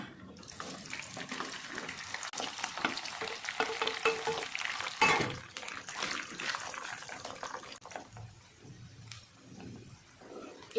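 Chicken frying in a pan, a busy crackling sizzle with scraping stirs and a sharp clatter midway, fading to a softer hiss toward the end, no voices.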